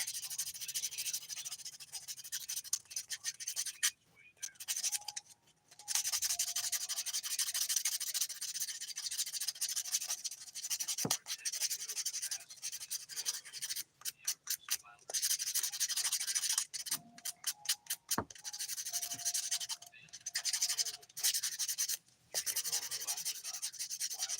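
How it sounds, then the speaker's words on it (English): Small nail buffer rubbed across fingernails during a dip powder manicure, giving bursts of close, soft scratchy rubbing with brief pauses between strokes. "Get to buffing real quick. I don't know why I'm using this little buffer."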